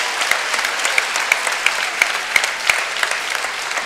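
A tennis crowd at the US Open men's singles final applauds a forehand, producing steady, even clapping from many hands that holds at a moderate level throughout.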